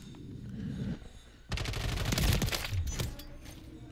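Rapid automatic fire from a RAM-7 rifle in a video game, a loud sustained burst of about a second and a half after a quieter lead-in, trailing off into a few scattered shots.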